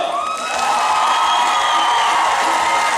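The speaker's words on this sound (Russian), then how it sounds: "Так, аплодисменты первому герою!" Audience at a Chuvash dance contest cheering and applauding for the first contestant, a loud, dense, continuous roar of shouts and whoops filling the hall without pause.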